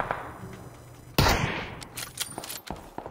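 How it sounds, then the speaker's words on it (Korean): Gunfire in PUBG Battlegrounds, a loud sudden burst followed by a stretch of scattered, sharp distant shots and crackling game noise. "나 총소리 엄청나네."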